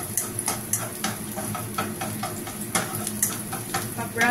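Garlic sizzles in hot oil in a pan while being cooked for a Filipino noodle and sardine dish, with steady crackling frying and occasional sharp utensil clicks and stirs close by.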